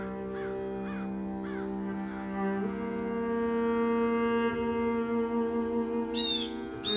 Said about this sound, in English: I hear the eastern blue jay out here in the west.